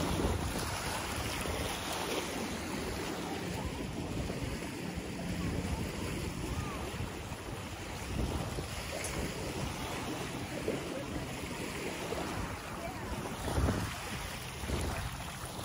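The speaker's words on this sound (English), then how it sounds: "So this is Navarre Beach." Waves and wind at Navarre Beach on the Florida coast: a continuous low rumble of surf mixed with buffeting wind on the microphone. Faint, steady and fairly distant, with no clear speech.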